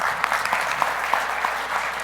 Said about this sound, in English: I want to just round of applause for Dr. Graham